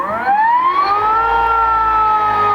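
An electric motor from a Volvo Penta saildrive EV conversion accelerates, giving a clear whine that rises steadily in pitch and then holds, close and loud over a low hum.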